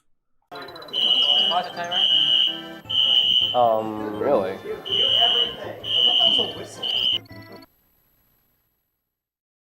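A hotel fire alarm sounds in repeated loud, shrill beeping bursts, pausing briefly between them, while voices talk over it, then it stops.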